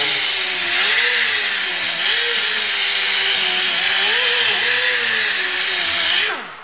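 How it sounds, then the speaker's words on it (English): A die grinder fitted with a wire wheel scrubs rust off a brake drum, a loud, constant high whir with wavering pitch as the wheel is worked around the drum, winding down at the end. "take a grinder, a die grinder, with a wire wheel on the end of this guy, and go around the outside"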